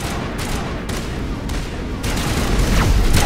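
Sustained heavy gunfire and blasts in the video game Mass Effect, a dense continuous barrage that swells louder in the final second.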